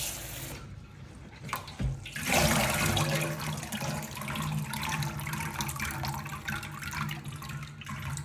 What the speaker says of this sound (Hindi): दोबारा से हम इसको पानी मारेंगे।